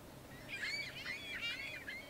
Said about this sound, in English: Got nice birds flying around the back of the boat there.